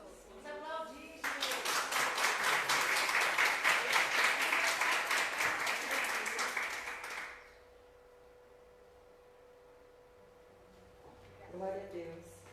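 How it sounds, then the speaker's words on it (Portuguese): Crowd of women at a church gathering bursts into loud, dense applause lasting about six seconds, then fades to quiet room tone, with talk before and a voice returning near the end. "Vamos aplaudir, gente."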